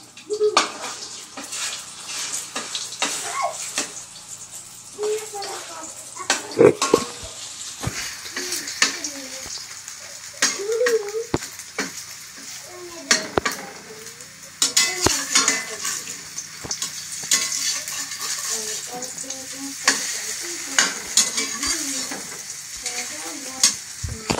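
An egg fries and sizzles in hot oil in a pan, with a steady crackle throughout and occasional clinks of a utensil against the pan, heard close and fairly loud without talk.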